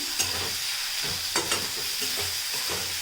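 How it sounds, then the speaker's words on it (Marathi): Onion fries in oil in a pan for a dry fish masala, a dense continuous sizzle with repeated scraping stirs at a regular pace, close up and with no voices. "कांदा आता आपल्याला एकदम लालसर आणि एकदम नरम होईपर्यंत चांगला अल्टीपल्टी करून घ्यायचं आहे तेलामध्ये"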